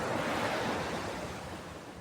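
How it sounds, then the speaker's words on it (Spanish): Ocean waves wash onto a beach shore in a steady, soft roar, a continuous broadband surge that swells slightly and then eases, with no voices. "El murmullo de las olas rompía suavemente contra la orilla"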